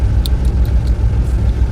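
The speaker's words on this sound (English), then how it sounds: "This truck has an exhaust leak" Truck engine running with an exhaust leak, a loud continuous low rumble close by with faint ticking and hissing on top, no voices.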